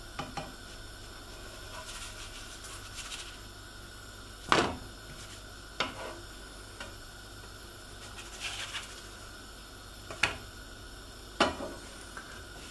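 Pitta bread cooking in a hot pan: a faint, steady hiss with a few sharp scrapes and knocks as the breads are flipped and pressed, sparse and quiet.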